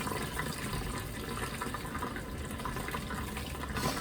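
Water pours steadily over fresh paneer curds sitting in a wide, flat metal colander, a continuous close splashing wash with no talking.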